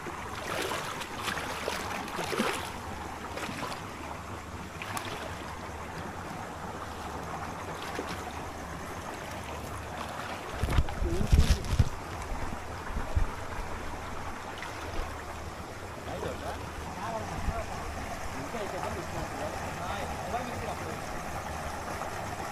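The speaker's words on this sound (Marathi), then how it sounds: "पाण्याचा आवाज बघ किती येतात." Steady rushing water fills the scene, with a louder low rumble around the middle and faint voices in the background.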